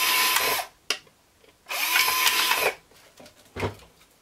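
A power drill bores holes into small seed pots, three short bursts of whirring, each lasting about a second, separated by brief quiet pauses and a few faint clicks.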